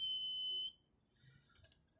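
An electric buzzer in a coconut water conductivity experiment sounds as a steady, loud, high-pitched tone for under a second, then cuts off, leaving faint clicks and small knocks.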